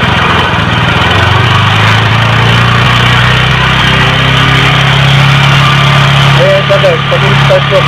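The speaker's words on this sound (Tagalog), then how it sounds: "Start ko muna yung makina." A Kawasaki LS135 petrol engine with auto-choke starts up and keeps running, a rough mechanical rumble with a rising tone partway through, loud and close.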